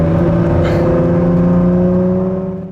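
A 2017 Ford GT's engine hums steadily on the road, a close sustained drone holding pitch before fading slightly at the end, with no talking.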